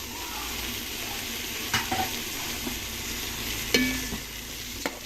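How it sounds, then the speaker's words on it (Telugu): Mint, coriander and fenugreek leaves fry with ginger-garlic paste in a pan for pulav, giving a steady sizzle with occasional stirring scrapes and clinks, close and moderately loud, no talking. "ఇవన్నీ బాగా కలుపుకొని బాగా వేయించుకోవాలి"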